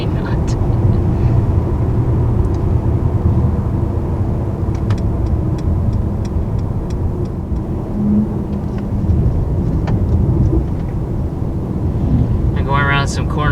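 A 577-hp 2019 Mercedes-AMG GT 63 4-Door on the road, its engine and exhaust a steady low drone heard from the cabin beneath continuous conversation.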